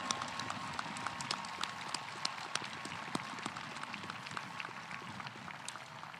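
Audience applause at a high school graduation ceremony, a steady wash of dense clapping that holds evenly throughout, moderately loud with no voices over it.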